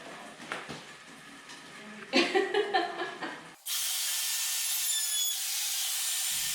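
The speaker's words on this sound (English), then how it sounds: "I beveled the ends of each board using a chamfer bit on my router." Handheld router fitted with a chamfer bit bevelling the ends of wooden ceiling planks, heard as a short burst of rough cutting followed by a steady, loud, high whine that runs on alone to the end.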